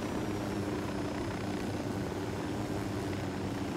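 Steady helicopter rotor drone in the video game Ghost Recon Wildlands, a low thumping rumble, constant and fairly loud throughout, no voices.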